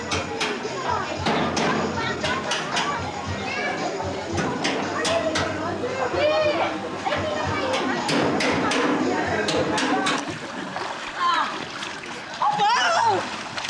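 A person swimming and splashing in water at a Christmas party, steady splashing and churning close by under lively talk and shouting from several people.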